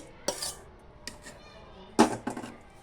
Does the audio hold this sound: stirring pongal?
yes